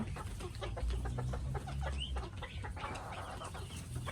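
A bantam chicken clucking in a series of short, close calls with a brief squawk near the end, over a quiet outdoor background.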